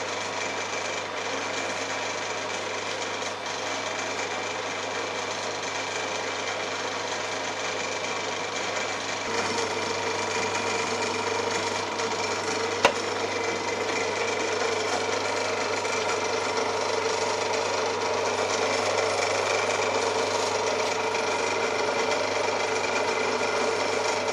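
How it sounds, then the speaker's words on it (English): A Myford Super 7 lathe runs steadily with a constant mechanical whir, and a faint, light rattle from its clutch sits within the even, continuous machine noise throughout. "That's the clutch there, that's where the little rattle is."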